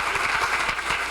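Auditorium audience clapping steadily at a university policy forum, a dense continuous patter of many hands held at even loudness throughout the brief moment, with no voices over it.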